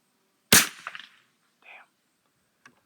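A single sharp, loud rifle shot from an old Stevens rifle cracks close by and decays quickly, followed by faint mechanical clicks of the action.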